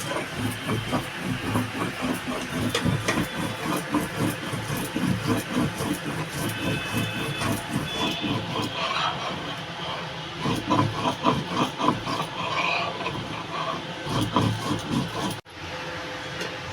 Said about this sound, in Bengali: এখানে সর্ষে আর কিছু কাঁচা লঙ্কা দিয়েছি এটাও ভালো করে বেটে নেব একদম মিহি করে বেটে নেব